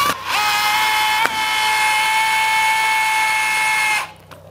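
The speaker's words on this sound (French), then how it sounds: "Je visse à fond, ce qui écrase un peu le caoutchouc." A power drill drives 70 mm screws into wall anchors, holding a loud, steady whine for about four seconds with one brief dip in pitch before stopping.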